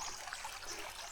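River water runs steadily past a farm property, a continuous broadband rushing trickle close by with no talk over it.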